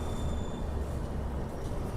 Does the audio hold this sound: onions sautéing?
no